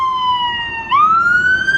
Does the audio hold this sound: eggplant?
no